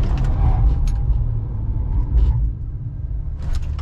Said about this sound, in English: And I'm going to hard brake.